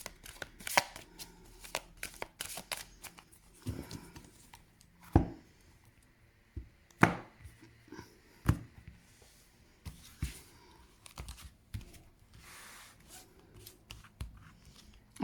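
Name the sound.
cutting and drawing from a tarot card deck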